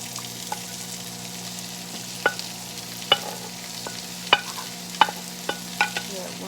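Vegetables for vegetarian stuffed peppers frying in a pan, a soft steady sizzle punctuated by several sharp clinks and scrapes of stirring, close and quiet, no voices.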